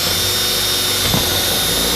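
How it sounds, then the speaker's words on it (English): A power drill with a 1/4 inch bit boring through two panel layers while installing a splitter extension on a 2015–2023 Dodge Charger, a steady loud whine with a brief bump in pitch as the bit bites midway. "You're gonna want to drill through both layers"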